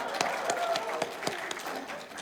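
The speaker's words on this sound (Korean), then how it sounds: "박수 부탁드립니다" An audience applauds at a political event in Korea, a moderate, steady patter of clapping heard from a middle distance, with a faint voice mixed in.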